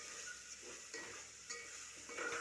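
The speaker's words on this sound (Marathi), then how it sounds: "1-5 मिनटं मसाले तर तळून घेऊ." Spices fry in oil with tomato in a pan for egg biryani, giving a soft, steady sizzle with faint stirring scrapes at intervals and no voices.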